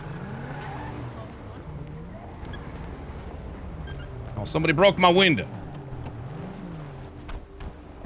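A car engine hums steadily under conversation in a roleplay video game, rising briefly into a louder revving burst midway before settling back to a low drone.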